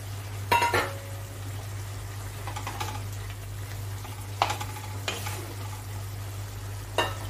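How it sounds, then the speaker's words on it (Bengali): Fried pointed gourd pieces go into a pan of moong dal gravy, giving a few sharp clinks and scrapes spaced seconds apart over a low steady hum and faint background simmer. "এবার আমি ভেজে রাখা পটলগুলো দিয়ে দিলাম"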